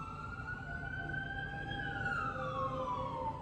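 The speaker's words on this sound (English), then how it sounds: "Ignore the sirens." A wailing emergency siren sweeps up slowly and then falls away, heard steadily over a low rumble of traffic.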